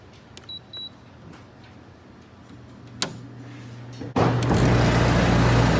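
An LG air conditioner unit starts up: a quiet low hum and a few clicks, then a sudden loud whooshing roar with a deep hum that holds steady to the end, close to the microphone.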